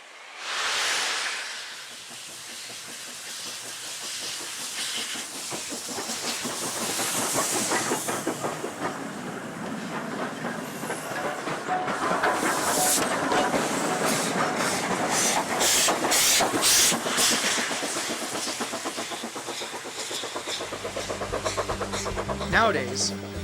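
A steam locomotive train runs along the track with a rhythmic chugging, hissing steam and rail clatter that builds and holds steady, fairly loud and near, ending in a lower rumble.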